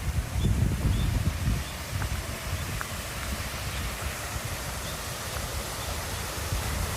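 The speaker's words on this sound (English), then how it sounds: "Kind of man-made waterfalls out here." Steady broadband rush of man-made waterfalls beside an outdoor path near Mt. Fuji, continuous and moderately loud, with faint rustling and no talk.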